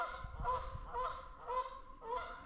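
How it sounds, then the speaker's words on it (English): An angry goose honks in about five loud, harsh bursts with steady gaps between them, fairly close and with no one speaking. "The geese is beefing."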